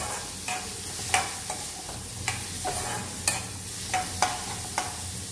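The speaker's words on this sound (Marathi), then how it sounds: "आपण हे छान परतून घेऊया. कांदा आपला छान लाल झाला पाहिजे." Onion and carrot sauté in a pan for rava upma, giving a steady soft sizzle with repeated sharp scrapes of a spoon stirring through the pan at an uneven rhythm, close and fairly loud.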